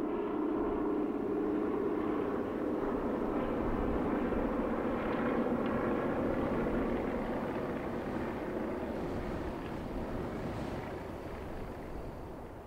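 Old Whitley bomber aircraft used for paratrooper jump training, its engine drone steady and loud throughout, a broad low rumble that eases slightly toward the end, with no voices.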